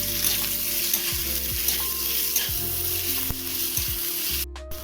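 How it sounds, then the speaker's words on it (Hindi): Carrots and roughly chopped onion fry loudly in a hot pan, a steady close sizzle with occasional stirring scrapes and no talking. "तो गाजर को थोड़ी देर अब फ्राई कर लेते हैं"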